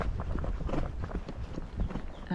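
A Tennessee Walking Horse's hooves thud in an uneven, steady rhythm as it is ridden on a twisty, overgrown lakeside trail, close and moderately loud, with no talk.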